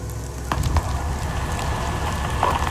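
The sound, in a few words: crackling fire burning in the Amazon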